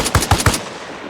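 Three quick, sharp shots from a DMR rifle fired as fast as possible in Arma Reforger, evenly spaced and loud and close, followed by a short fading tail.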